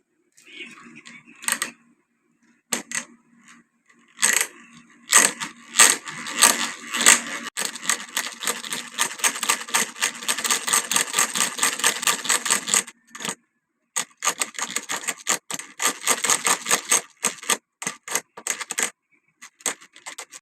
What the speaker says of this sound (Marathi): आता हे गिरमीट घेतलेलं आहे आणि अशा प्रकारे होल पाडून घेत आहेत